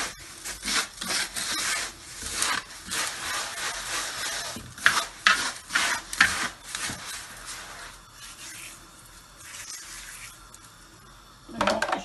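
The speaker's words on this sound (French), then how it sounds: "je vais mélanger la semoule avec l'huile et un petit peu de sel" Hands rub and toss couscous semolina with oil and a little salt in a bowl, giving a steady close-up dry grainy rustling with scraping bursts and brief pauses.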